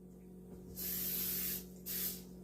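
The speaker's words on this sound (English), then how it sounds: "Okay, I'm gonna spray." Two bursts of cooking spray hiss onto a baking pan before mixing Irish soda bread, the first long and steady, the second shorter, both close and loud with no talking.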